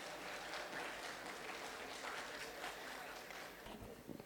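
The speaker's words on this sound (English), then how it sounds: "Can we have another round of applause for Mr. Bhutalingam here on stage?" A summit audience applauds in a hall, a sustained, fairly faint patter of many hands clapping that continues throughout and eases slightly toward the end.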